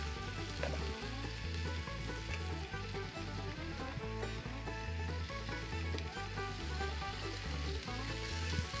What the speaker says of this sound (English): there is something about fish frying on fire, lakeside